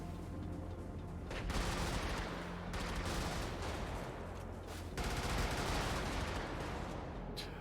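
Heavy booming cannon fire from the video game Brigador rolls continuously in bursts, dense and noisy with no voices, like a battle raging nearby.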